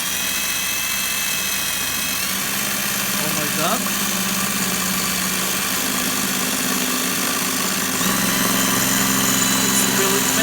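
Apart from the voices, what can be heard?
Ingco cordless drill drilling through strong metal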